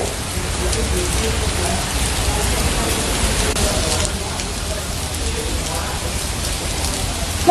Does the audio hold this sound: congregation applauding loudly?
no